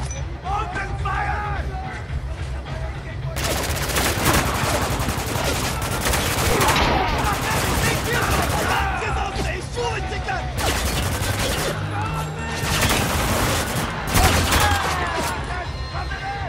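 A chaotic firefight in the video game Spec Ops: The Line, with dense, loud volleys of rifle and machine-gun fire rattling continuously while soldiers shout amid the shooting.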